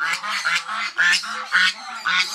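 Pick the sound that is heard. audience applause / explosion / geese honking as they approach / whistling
geese honking as they approach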